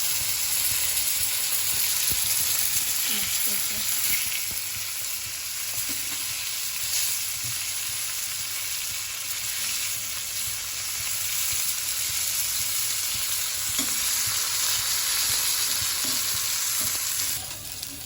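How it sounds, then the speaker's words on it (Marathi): Bangda mackerel fish fry steadily in hot oil, a loud, continuous crackling sizzle that runs unbroken for the whole stretch with no voices. "हे बघा बांगडे आता मस्त फ्राय झाले"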